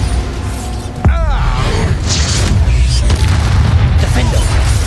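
A Bombarda explosion spell going off in the video game Hogwarts Legacy, giving one sudden loud boom followed by a heavy, sustained rumbling roar with some creaking debris and faint game voices mixed in.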